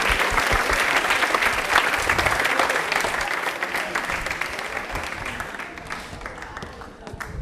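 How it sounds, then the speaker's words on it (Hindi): Loud, sustained applause from a studio audience at a televised quiz show about Indian Railways, many hands clapping densely throughout and tapering slightly toward the end, with no talk over it. "प्लीज एक बार जोरदार तालियां हो जाए"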